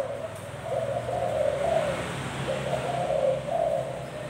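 A newly imported Thai dove with dragon-pattern plumage coos in song, two clear rhythmic cooing phrases separated by a short pause, close and alone against a quiet background.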